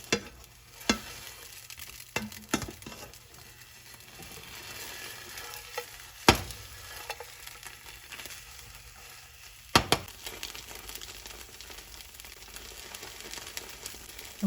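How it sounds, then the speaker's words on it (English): Plant-based JUST Egg fries in butter in a pan, a soft, steady sizzle with occasional sharp clicks and scrapes of a spatula stirring and flipping, fairly quiet throughout. "just the butter frying and everything"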